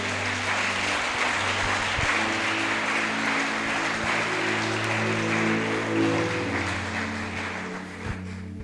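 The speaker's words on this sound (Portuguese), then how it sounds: "Você pode dar um aplauso a Jesus." Congregation at an Easter church service applauds, a broad steady wash of clapping over sustained low organ-like tones, fading slightly toward the end.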